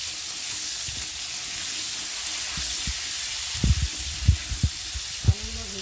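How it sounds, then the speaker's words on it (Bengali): Cut potatoes fry in a pan over cumin with a constant hissing sizzle, while several dull stirring knocks and scrapes land close by in the second half. "আর এখন আমি কেটে রাখা আলুগুলোকে দিয়ে একটু ভালো করে ভেজে নেব।"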